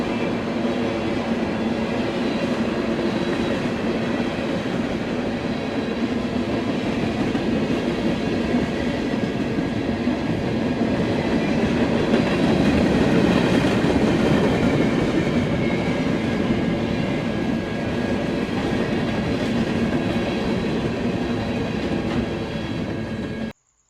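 Steady, loud rumble of a train rolling along rails, with a continuous rhythmic clatter of wheels and faint metallic squeal, no voices.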